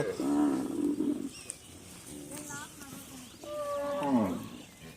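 Cattle mooing at a crowded cattle market on a Padma river sandbank, several drawn-out moos close by over a busy background murmur, with a bird cooing faintly.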